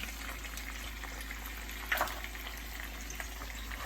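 Eggs stirred into chilaquiles in salsa verde in a hot pan give a steady close sizzle, with a brief scraping clatter of stirring partway through and no talking.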